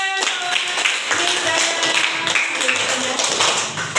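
A class of students claps hands in a room, a burst of quick, fairly close applause lasting a few seconds while a voice talks over it.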